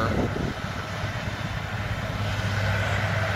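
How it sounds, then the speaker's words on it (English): A forage chopper roars steadily while chopping snaplage on a farm, a loud, continuous low engine drone heard close by without pause. "Hear that chopper roar."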